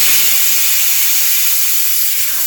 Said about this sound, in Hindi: ये थी कुकर की सीटी दोस्तों